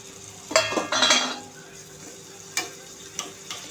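Almonds fry in melted butter over low heat in a pan, giving a soft sizzle with a few close clinks and stirring scrapes early on, then quieter bubbling.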